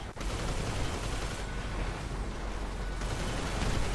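Dense, continuous gunfire and rapid shooting from the video game GTA 5 Online fill the whole stretch, loud and unbroken, with no talk over it.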